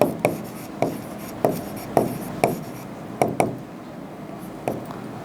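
Chalk tapping and scraping on a classroom board in short irregular strokes, about a dozen sharp hits over several seconds, close and fairly loud with no talking over it.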